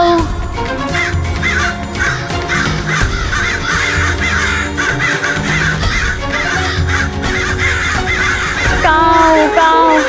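Crows caw repeatedly, loud and close, over a dense bed of music in a Ganesh devotional drama, with a rising whistle-like tone near the end.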